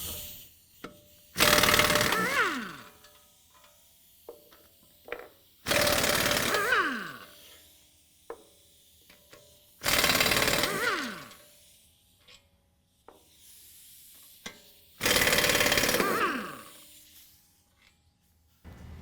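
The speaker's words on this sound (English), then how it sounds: "now I'm going to remove the 4 18mm bolts that are holding the hub to the knuckle" Four long bursts of an impact gun or power wrench removing 18mm bolts from a truck hub and knuckle on a 2015-17 Ford F-150 4WD, evenly spaced, each a loud whirring buzz, with small clinks between.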